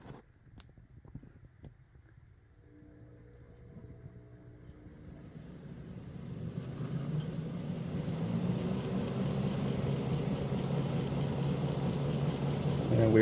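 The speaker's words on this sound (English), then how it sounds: "And we are about quarter throttle right now. Oh, she's starting to move." An Athearn SD70AH conversion model locomotive at quarter throttle gives a low motor hum and rumble that starts quiet and builds steadily as it begins to move, growing louder and fuller toward the end.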